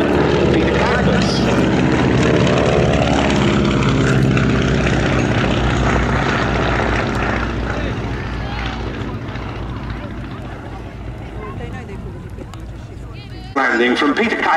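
Beechcraft Staggerwing biplane flying at the Duxford summer air show, a loud radial engine drone with propeller buzz that slowly fades, while a commentator talks over it throughout.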